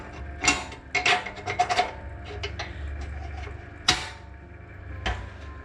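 Metal clamp being fastened onto a distillation apparatus for frankincense resin, giving close scraping, rubbing and clicking sounds in uneven bursts with a few sharper knocks, no talking.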